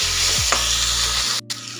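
Tomatoes with a ground green chili and garlic paste sizzle loudly in hot oil in a pan, a steady close frying hiss with a brief stir, cutting off near the end before resuming.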